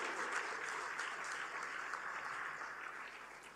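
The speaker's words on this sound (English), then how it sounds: "can we have a round of applause for all of them who've done some wonderful work for you?" A convocation audience applauds the parents in steady, dense clapping that fills the hall evenly throughout, with no one speaking over it.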